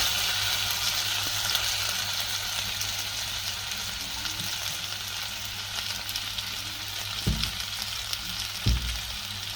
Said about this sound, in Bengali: আগে থেকে ভেজে রাখা সিজলিংয়ের সকল উপকরণ এখানে ভালো করে মিশিয়ে নিব